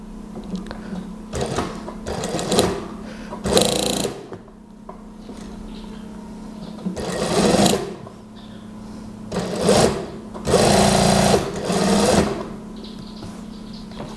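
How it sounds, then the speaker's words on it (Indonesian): Sewing machine stitching the sleeve seam of a daster dress, running in several short rattling bursts of rapid needle strokes separated by quieter pauses, close and loud over a steady motor hum. "Kemudian kita jahit dari sisi sini."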